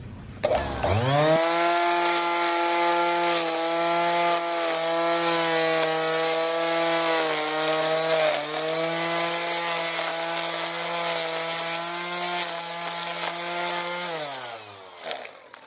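A $35 Craftsman Model 25172 electric string trimmer starts up and runs at a steady high-pitched whine for about fourteen seconds, loud and close, then spins down at the end, with no talking.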